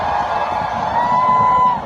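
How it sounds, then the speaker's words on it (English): A crowd at an outdoor rally in downtown Providence, a dense wash of many voices shouting and chanting together, with one higher voice rising above the noise. "It's a very violent crowd."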